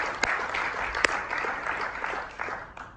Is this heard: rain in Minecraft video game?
no